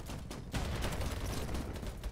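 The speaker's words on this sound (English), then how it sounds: "There's so many gunshots everywhere." Dense gunfire crackles through a battlefield in a first-person shooter, with rapid overlapping shots and bursts forming a loud, continuous barrage after a brief quieter moment at the start.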